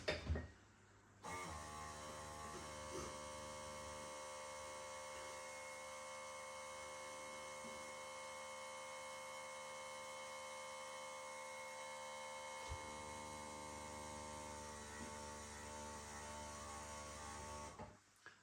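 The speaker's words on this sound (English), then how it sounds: "The reassuring sound of the perfect draft machine" A Perfect Draft home beer machine pours Samson Czech lager with a steady, close mechanical hum and whir that holds for about sixteen seconds before cutting off.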